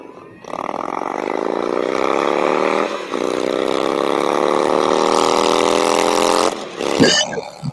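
An old Indian engine runs close by and is held at raised revs, a steady loud droning roar that dips briefly once and then cuts off near the end.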